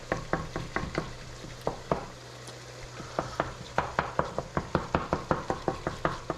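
Ground meat for chili browning in a pan, with steady sizzle and frying hiss under a run of sharp, rhythmic scraping and knocking strokes as it is stirred and broken up, close and fairly loud.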